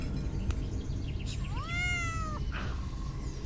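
A single cat gives one clear meow that rises and then falls, moderately faint against a steady background hiss.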